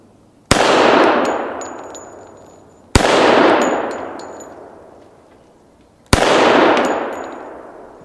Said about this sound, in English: Let me go ahead and try the gong.